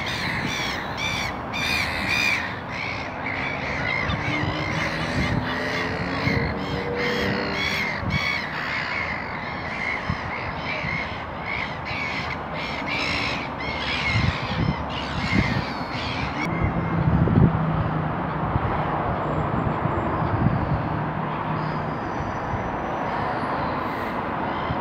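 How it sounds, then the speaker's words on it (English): Gulls call noisily around the Hilsea Lido and moat area, with harsh repeated cries clustered in the first part, then a steadier low outdoor rumble with fewer calls. "A lot of noisy seagulls today."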